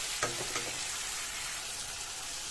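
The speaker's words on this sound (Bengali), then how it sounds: "এগুলো একটু লাল লাল করে একটু ভেজে নেবো" Ground spice paste sizzles in a hot pan for a dried fish dish with a continuous crackling hiss; a couple of scraping stirs near the start, then steady frying alone.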